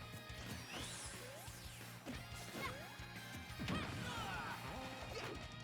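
Up smash attacks landing in Super Smash Bros during a tournament match, a run of sharp impact cracks and whooshes over steady game music and effects, with a commentator's voice faintly underneath.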